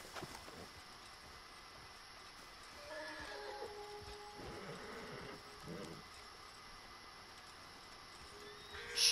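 A horse in a video game whinnies faintly, a drawn-out neigh rising in the middle of the stretch over quiet game ambience, with no clear speech.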